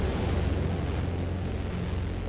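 Sniper rifle shot in the video game Children of the Sun, a dense, continuous booming rumble that stays loud and even throughout, without any distinct separate crack.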